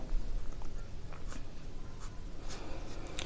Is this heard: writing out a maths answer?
yes